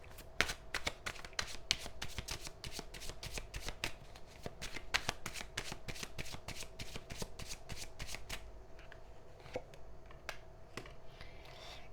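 Tarot cards are riffled and shuffled by hand in a quiet room, producing a long run of quick, crisp flicking and snapping clicks close to the ear that slow to a few sparse taps at the end.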